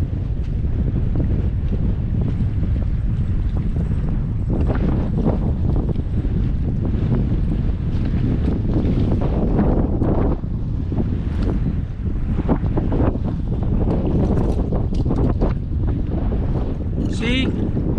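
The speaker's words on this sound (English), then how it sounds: "It's windy." Strong wind buffeting a fishing boat out on a lake, a constant loud roar of gusts and wind noise with faint water movement throughout.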